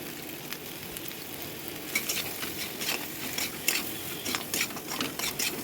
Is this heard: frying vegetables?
yes